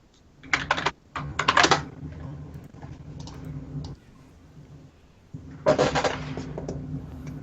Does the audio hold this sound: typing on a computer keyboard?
yes